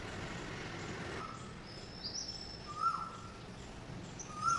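A bird calls in the quiet of early morning, giving a few short, thin, rising chirps spaced a second or two apart over faint background hiss. The calls sound distant and soft, with no talking.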